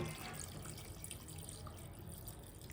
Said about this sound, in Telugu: సూప్ కోసం కొద్దిగా వాటర్ పోసుకోవాలి